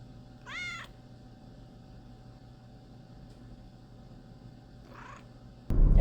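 A cat at a veterinary clinic gives two short, faint meows a few seconds apart over a quiet hum, followed by a sudden louder rustle at the end.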